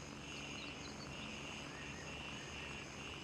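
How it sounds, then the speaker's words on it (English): Distant military helicopters in the shooter game Gray Zone Warfare, a faint, continuous rotor and engine drone that holds steady and low in the background with no talk. "I must be hearing some enemy choppers."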